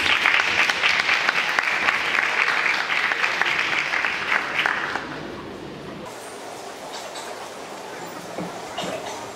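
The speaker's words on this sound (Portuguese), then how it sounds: "uma salva de palmas para a Mari Leite" Audience applause for a speaker at an event, a steady wave of clapping for about five seconds that then fades, leaving quieter room noise with a few murmurs.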